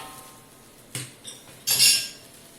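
A spatula scrapes and flips a jowar flour dhirade in a pan, giving a couple of short metallic scrapes followed by a brief burst of hissing sizzle as the pancake lands.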